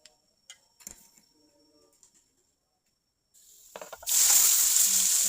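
Fish coated in a heavy chilli-spice masala sizzles loudly in a pan, the sharp frying hiss bursting in after a few seconds of faint clinks and near silence.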